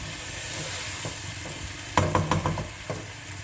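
Stirring in a cooking pot of yogurt with a little water added, for a vegetarian haleem khichdi: faint sizzling underlay, then a cluster of sharp spoon scrapes and clinks against the pot, close and brief.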